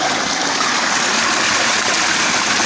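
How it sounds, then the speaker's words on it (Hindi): Water from a 3-inch solar tubewell delivery pipe gushes out under pressure, a loud, steady, broadband rush that holds constant from start to end with no voices over it. "अभी हम पानी का प्रेशर देख रहे हैं, वो जहाँ से पानी निकल रहा है वहीं पे नीचे जा रहा है"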